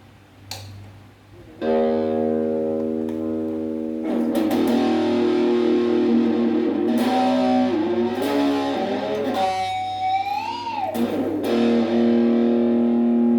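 Loud, crunchy distorted electric guitar played through a Yamaha AR1500 amp, sustained chords and bending notes ringing out over a steady low hum, no voices.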